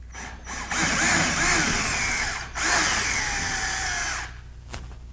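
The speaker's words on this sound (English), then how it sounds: "Making sure not to drill into our wire." A power drill bores a hole into a wall beside a front door while a keypad is installed, running in two long steady bursts with a short pause between, close and loud, followed by a brief tap.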